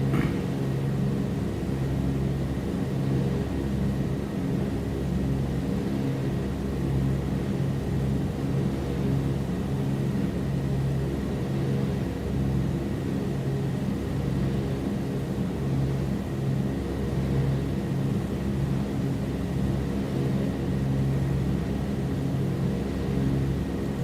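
A Douglas DC-3's piston engines drone steadily in Microsoft Flight Simulator 2020 during a bush flight in Colombia, a constant low throbbing rumble with no voice over it.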